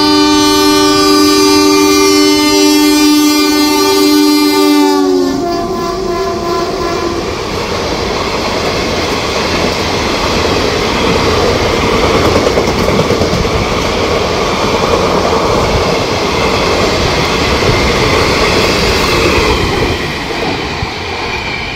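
The Lalgola–Kolkata Hazarduari Express rushes past, opening with a long, loud two-tone horn blast, then a sustained roar of wheels and coaches rumbling and clattering by close at hand.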